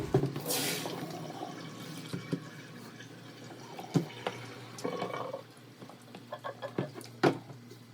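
Water sloshes and trickles in a container, with clicks and splashes of rice grains being swirled and rinsed close by.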